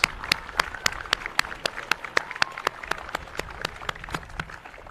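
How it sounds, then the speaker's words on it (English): At a police athletic league ribbon cutting, a small crowd claps, with a few sharp, evenly spaced loud claps standing out over a softer bed of scattered hand claps. "Give yourself a big round of applause"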